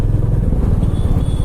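A Royal Enfield Meteor 350 motorcycle thumps steadily while riding through city streets, its low engine pulse loud and close against a rushing wind-like roar.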